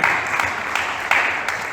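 A church congregation claps in a dense, even wash with a few sharper beats standing out, filling the room at moderate loudness.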